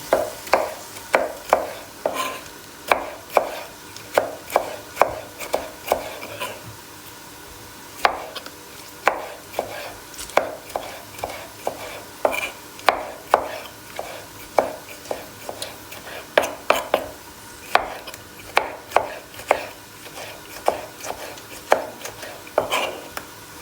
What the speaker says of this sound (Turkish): domateslerimizi doğrayalım.